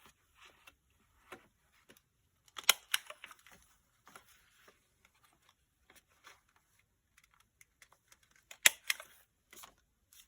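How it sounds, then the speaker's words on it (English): Corner punch snapping through glued paper flaps of a folio, a few sharp isolated clicks spaced apart with faint handling rustle between. "I think I do want to round these corners on at least the top flap. So I'm going to go ahead and punch those."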